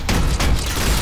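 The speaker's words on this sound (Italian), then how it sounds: "Esplosioni, caos!" Explosions in an animated robot battle game, a dense loud rumbling barrage of blasts and crashing noise filling the whole moment without pause.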